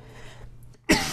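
A single sharp cough bursts out near the end after a quiet, faintly humming pause.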